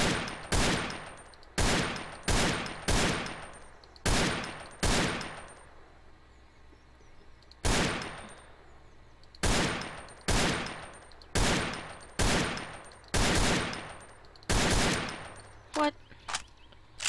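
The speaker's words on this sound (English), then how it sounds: "Wow, this gun's strong." Bursts of loud gunfire from a powerful gun in Garry's Mod ring out in rapid volleys, with a pause midway before more repeated shots and a few trailing metallic clicks at the end.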